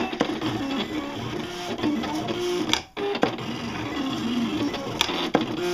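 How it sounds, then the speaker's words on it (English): A Silhouette Cameo cutting machine runs steadily as it cuts a printed page, giving a continuous mechanical whir with a brief dip partway through and a few small clicks. "Number 3 down here at the bottom says cut page, and we are cutting already."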